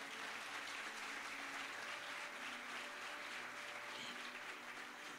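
A church congregation at a praise and worship seminar applauds steadily for about five seconds, a dense, even wash of clapping heard from within the room at moderate level.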